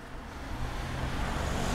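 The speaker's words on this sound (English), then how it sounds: "Oh, I hear a car." While walking through a quiet neighborhood in Japan, a car approaches with a soft, broadband road rush that swells steadily louder over a couple of seconds.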